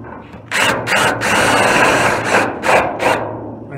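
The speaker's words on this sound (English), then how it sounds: "I'll go ahead and drill, go up to a little bigger drill bit" An electric drill with a larger bit drilling into the metal hood of a Ford F100 truck revs in several loud, short bursts and sustained runs, grinding steadily between brief pauses.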